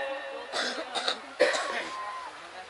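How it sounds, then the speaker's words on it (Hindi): A few coughs and a throat clear come in quick succession in a quiet room, each a short, rough burst. "खांसी आपको आ रही है"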